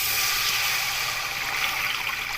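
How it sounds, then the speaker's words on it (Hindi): About a kilogram of water poured into a biryani pot after the masala has been sautéed: a steady, close rush of flowing liquid that runs without a break for a couple of seconds, no voices. "अब इसके अंदर मैं 1 केजी पानी डाल दूँगी।"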